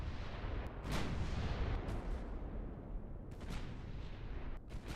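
Naval artillery thunders in a video game battle as a battleship is sunk: continuous heavy booming and rumbling blasts, loud and dense, with repeated sharp cannon reports throughout.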